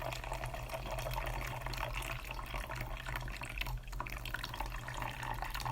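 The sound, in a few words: draining hot water from instant yakisoba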